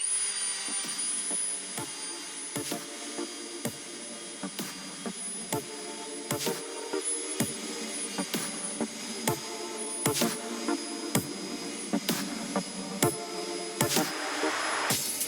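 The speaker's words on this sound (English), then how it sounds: "I just have some Mother's polish and just a polishing wheel" A polishing wheel charged with Mother's polish buffs the cut muzzle end of an Arsenal AK-74 SLR-104UR rifle barrel, a steady close motor whine with repeated brief surges and knocks as the barrel is pressed against the wheel.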